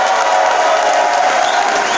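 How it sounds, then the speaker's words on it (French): Applause mixed with crowd cheering from a conference audience honouring a musician, loud and continuous, with scattered shouts rising over the steady clapping. "je vous demande d'applaudir"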